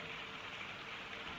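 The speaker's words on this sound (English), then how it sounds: "You can probably hear in the background it's raining outside." Steady rain falls outside, a soft continuous hiss heard from indoors in the background, faint and unbroken with no talk.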